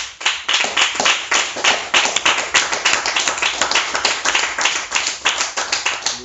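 Congregation at a French church service clapping together in acclamation, dense steady applause of many hands with a lively rhythm, sustained and fairly loud throughout.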